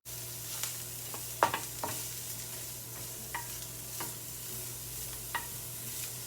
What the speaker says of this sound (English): And now I am going to put some onions.